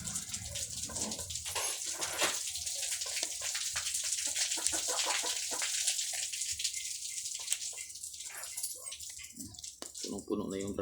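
Water spilling over the rim of a completely full drum, a steady close splashing and gushing that runs throughout, with a person talking over it.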